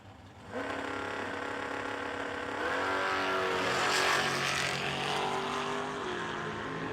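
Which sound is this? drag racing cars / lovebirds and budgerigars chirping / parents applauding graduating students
drag racing cars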